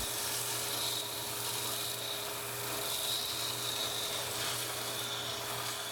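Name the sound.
sanding wood pieces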